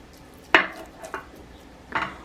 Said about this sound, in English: I've chopped this bacon up a little bit. Get it in the pot.